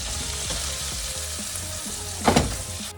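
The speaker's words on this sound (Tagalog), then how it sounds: "yung prawn natin, ipiprito muna natin siya" Prawns fry in hot oil in a pan for Thai basil fried rice, a loud dense sizzle that runs throughout, with a brief scrape or clatter near the end and no talking.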